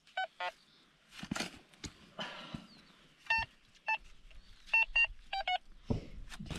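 Metal detector on a beach or field gives a series of short electronic beeps in quick clusters, signalling a buried target worth digging, with faint handling noise between them.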